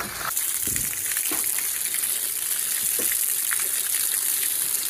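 Hose water steadily rinsing a foamed air-conditioning condenser coil during cleaning, a continuous hissing spray with faint splashes, close and unbroken, no talking.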